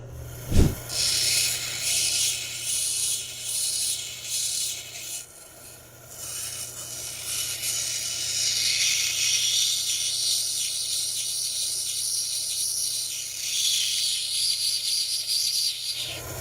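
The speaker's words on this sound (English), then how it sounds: "Let's move on to the 220, the medium grinding wheel. And we can start doming over the top." Ocean picture stone ground and domed against a 220 medium grinding wheel, a continuous close hissing rasp with a motor hum beneath, steady throughout and varying slightly as the stone is worked, with no talking.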